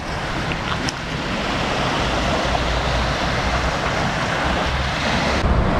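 Sea waves break along the coast at Mazara, a continuous loud wash of surf mixed with gusting wind buffeting the microphone, steady for the whole stretch with no speech.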